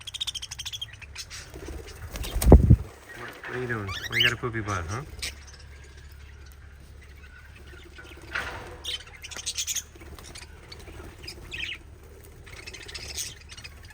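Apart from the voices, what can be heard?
cockatiels and budgies squabbling in an aviary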